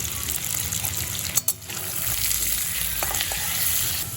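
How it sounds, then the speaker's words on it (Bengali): Potato pieces salted and frying in hot oil for a Bengali chhanar bora dalna hiss in a dense, steady sizzle, broken briefly by a pair of sharp stir clatters. "আলুর টুকরোগুলো আমি ভালো করে ভেজে নেব।"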